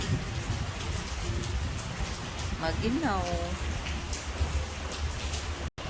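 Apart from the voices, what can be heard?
rain falling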